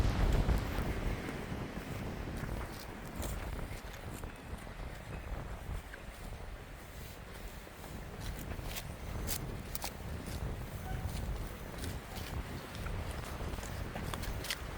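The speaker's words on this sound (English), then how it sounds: "It's a real windy day, so hopefully you can hear me okay." Steady, blustery wind buffeting a microphone outdoors on a dock by the water, with a continuous low rumble and occasional gusts; no talking.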